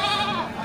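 Goats at an Indonesian goat market bleat in a short, loud, nasal burst that lasts under a second, close by and with no talk over it.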